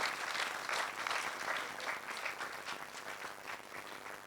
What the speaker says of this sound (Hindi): और एक बार फिर से जोरदार तालियों से हृदय की गहराइयों से सभी का स्वागत